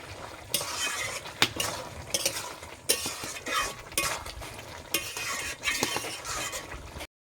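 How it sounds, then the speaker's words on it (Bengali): Fried prawns with pumpkin and potato being stirred in a pan: repeated close scraping and clinking of a spatula against metal over a light sizzle, in uneven bursts before stopping abruptly. "এটা আমি ভালোভাবে নাড়াচাড়া করে আর নামিয়ে নেব"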